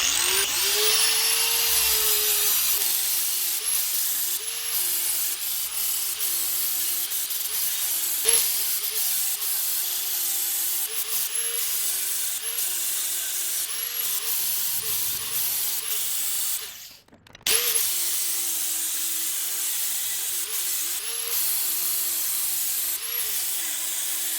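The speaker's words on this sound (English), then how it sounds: "Let's do a little grindy and see what we come out with." An angle grinder works a metal utility cart frame built for a Honda Grom, a steady loud whining hiss that runs continuously with small pitch wobbles and one brief cutoff before resuming.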